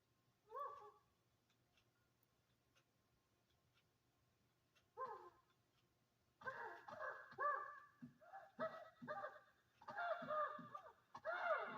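Whimpering from a character in the video game The Legend of Zelda: Twilight Princess: two short, isolated whines, then a denser run of yelping whimpers near the end.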